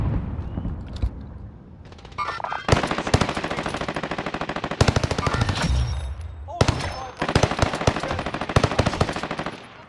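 Rapid automatic gunfire from a video game weapon during an online multiplayer match, loud repeated bursts with short pauses, over background game noise.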